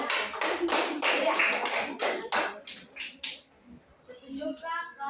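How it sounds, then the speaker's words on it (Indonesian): A group claps in a quick, even rhythm, several sharp hand claps in a row, then stops abruptly. Faint voices follow in the quiet that comes after. "Iya, tepuk tangan."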